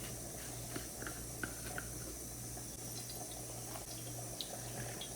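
Water poured or run from a tap while making pani puri water, a faint, steady trickle with a low hum underneath and a few light clicks.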